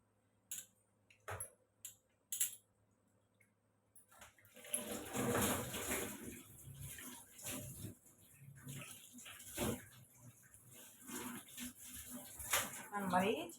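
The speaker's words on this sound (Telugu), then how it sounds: "ఇప్పుడు మనం టమాటోలు కడిగేసి వేసుకుందాము" Tomatoes are washed in water in a home kitchen, splashing and swishing close by, after a few sharp clicks and knocks at the start, with a person talking over the sound.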